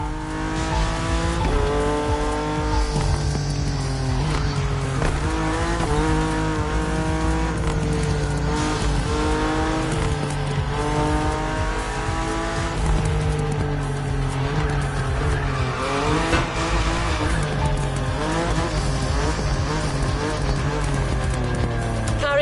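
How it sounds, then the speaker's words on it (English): A Lamborghini Aventador in the video game The Crew Motorfest, its engine droning and shifting pitch steadily as it races, with tire squeal and skids mixed in, loud and continuous throughout with no break. "Lamborghini Aventador."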